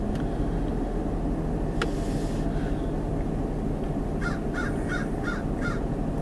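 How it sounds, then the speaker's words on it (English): A crow caws in a quick series of four or five harsh calls, fairly distant, over a constant low rumble of traffic or engine noise. "There's always a crow somewhere."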